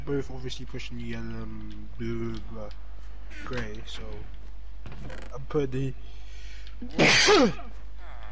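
A single sharp sneeze bursts out near the end, loud and close, following ongoing conversation between players of a Minecraft Egg Wars match.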